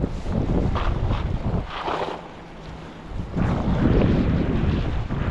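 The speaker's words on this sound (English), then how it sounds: "a big old gust is coming" Strong gusting wind roars across a mountain lake during a winter storm, with rushing broadband buffeting, a brief lull near the middle, then a renewed loud gust close to the microphone; no talk.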